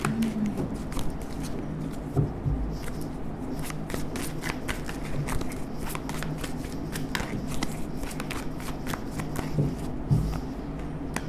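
Tarot cards shuffled by hand in a steady, close riffling patter that runs without pause, with a few soft thumps from the deck and no talking.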